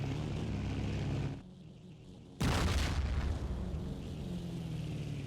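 A tank is destroyed in a Battlefield 1942 match: an aircraft engine drones, the sound drops briefly, then a sudden loud explosion bursts in and decays into a rumbling roar under the continuing engine noise.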